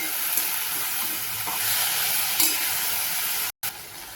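Cluster beans (gavar) sautéing in oil, giving a steady, close frying hiss with occasional soft stir scrapes and a brief dropout near the end, with no voices.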